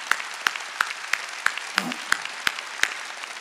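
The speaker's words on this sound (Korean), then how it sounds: "성가대한테 박수 한번 쳐줘" A church congregation claps for the choir during a Sunday worship service, sharp unison claps falling in a steady beat of about three per second, crisp and evenly spaced, with no talking.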